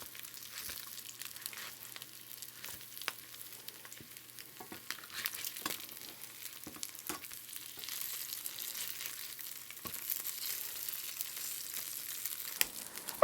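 Mock brains frying in bacon grease in a pan, a soft continuous sizzle dotted with scattered pops and light spatula taps, faint and close, with no talking.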